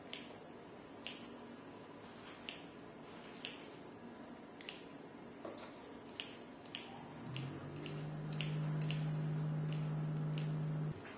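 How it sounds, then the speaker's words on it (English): Scissors snip cooked lobster meat into chunks, a series of sharp separate clicks and squishy cuts at an uneven pace, followed by a steady low hum toward the end. "You can either use a knife, or I like to just go ahead and use scissors."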